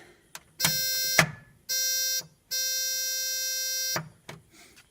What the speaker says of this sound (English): it buzzes when you leave the lights on